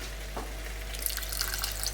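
Water poured into simmering lasagne sauce in a pot, a soft continuous splashing trickle over a low kitchen hum, faint and steady.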